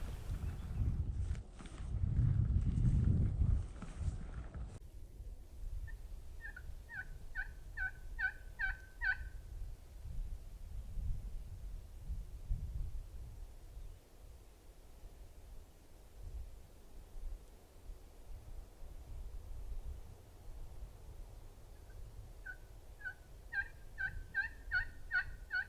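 Wild turkeys gobble from a distant ridge in the woods, sending two faint bursts of rapid, rattling gobbles across a quiet outdoor background with some low rustling and handling noise.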